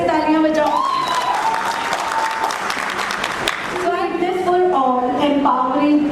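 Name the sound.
audience applause at a conference lecture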